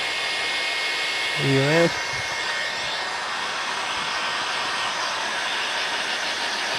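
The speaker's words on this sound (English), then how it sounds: "this is just a heat gun" A heat gun blows steady broadband air over resin, a continuous hiss holding level throughout, briefly interrupted near the start by a short voice.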